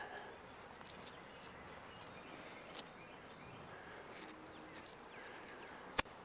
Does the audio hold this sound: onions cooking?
no